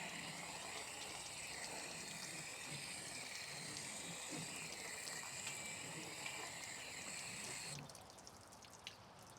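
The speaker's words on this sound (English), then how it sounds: "let's just try it with a kind of stream of water" A steady hiss of running water splashes onto a car's painted body, constant and close, then thins out abruptly near the end.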